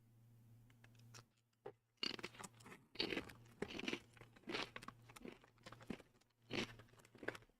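Close, crisp crunching of a light, airy square snack with a sweet and salty flavour, a rapid series of bites and chews with brief pauses and a faint steady background hum.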